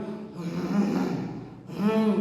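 A voice imitates snoring: a drawn-out, breathy snore with a rough rattle, a short pause, then another snorting inhale, close and fairly loud.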